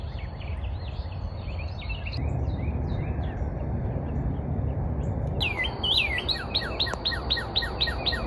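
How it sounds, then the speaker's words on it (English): Many birds chirping and calling across lush green Texas wetlands in summer, a busy chorus of overlapping tweets and whistles that grows denser and closer toward the end, with no talk. "So many birds."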